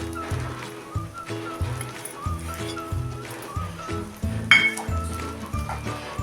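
Roasted coconut stirred into a coarsely ground mixture in a pan while making a nutritious sweet vadi for children, with soft scraping and occasional clinks of the spoon against the pan beneath steady background music.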